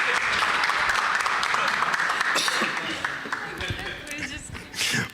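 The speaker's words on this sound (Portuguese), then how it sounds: "Palmas!" Audience applause at a forest technology presentation, a burst of clapping that is strong at first and then thins into scattered claps, with voices and handling noise as it dies down.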